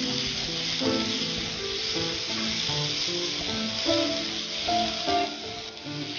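Cauliflower, peas, beans and carrot fry in a pan with a steady, soft sizzle and hiss, faint and continuous throughout, interrupted by occasional light scraping and stirring.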